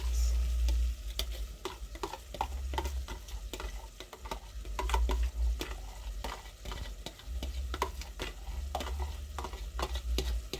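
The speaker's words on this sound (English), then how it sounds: "when I'm cooking tomato scrambled eggs, I normally mix it like this" Tomato scrambled eggs being stirred in a frying pan, a steady sizzle under repeated scraping and clicking strokes of the utensil against the pan, close and continuous with no talking.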